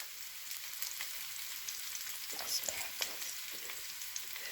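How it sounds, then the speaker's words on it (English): Vegetables sizzle and crackle in a hot frying pan, a quiet steady hiss with small pops and stirring clatters, heard alone at close range. "And now I'm going to add my vegetables."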